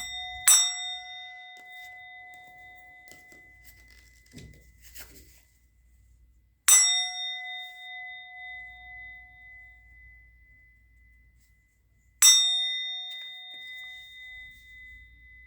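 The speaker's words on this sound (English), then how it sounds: "I'm going to ring the bell." A bell is struck three times, about six seconds apart. Each strike gives a bright, clear ring that decays slowly, with near silence between strikes.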